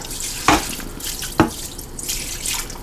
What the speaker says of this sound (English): Add my 2nd cup of water.